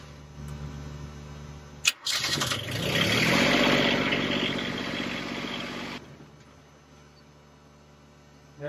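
A boat engine cranks with a sharp starter burst, then catches and runs at a steady loud rumble for several seconds before dropping to a quieter idle hum; the starter is known to be faulty.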